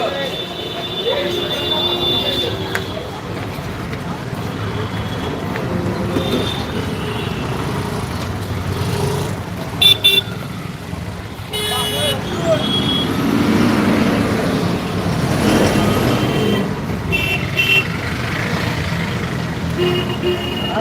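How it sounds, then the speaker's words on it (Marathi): Busy road traffic in Ghatkopar West, Mumbai, with engines rumbling steadily and occasional beeping from vehicles, voices faintly mixed into the street noise. "खूप गर्दी असते ते गाड्यांची"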